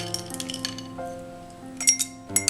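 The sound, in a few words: ice clinking into a glass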